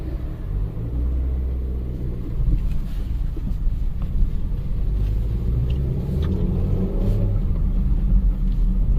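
A Maruti Suzuki Baleno car on the move, heard from inside as a steady, loud low rumble of engine and road noise with wind buffeting, faint clicks on top.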